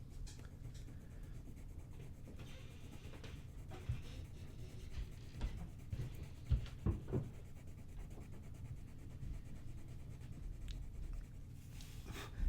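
Chrome yellow colored pencil laid down in a heavy application on dark paper, a continuous close scratchy scribbling with irregular strokes and small taps, quiet and steady throughout, no voices.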